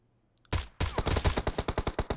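Gunfire in the mobile shooter PUBG Mobile in single-fire mode: two loud, close shots, then a quick run of about a dozen sharp shots in a fast, even rhythm.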